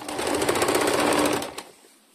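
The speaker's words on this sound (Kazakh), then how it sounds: "Оны да айналдырып тігіп шығамыз, екі жағын қосып." A sewing machine stitching fabric for a zipper bag runs as a fast, steady, close-up mechanical chatter for about one and a half seconds, then stops abruptly.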